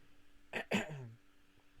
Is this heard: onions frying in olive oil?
no